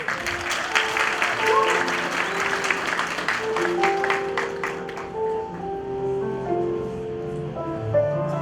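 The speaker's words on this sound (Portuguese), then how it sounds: "Nosso aplauso aos formandos e formandas da 34ª turma do curso de enfermagem" Audience applause at a nursing graduation ceremony, a dense steady wash of clapping lasting throughout, with sustained music tones underneath and faint voices mixed in.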